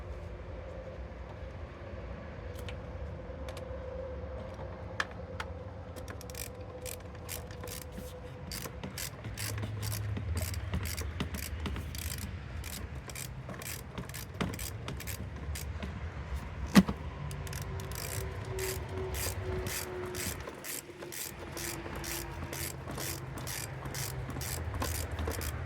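A ratchet tightens bolts on the throttle body of a 2008 Infiniti G35, its pawl clicking in long rapid runs of sharp ticks over a steady background hum, with a few louder knocks along the way.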